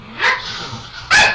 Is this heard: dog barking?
yes